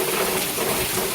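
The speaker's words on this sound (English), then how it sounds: "The rain has picked up." Heavy rain and wind during Hurricane Irma, a dense, continuous roaring wash of pouring water and gusts, loud and close with no break and no voices.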